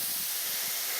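A cracked, rotted 50 psi cart tire leaks air in a steady, close, fairly loud hiss that continues without a break.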